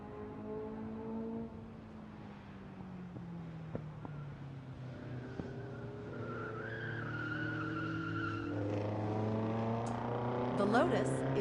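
A Lotus races on a track followed by Porsches and a Corvette, their engines droning with shifting pitch as they pass, plus a brief tire squeal near the end, all under a speaking voice.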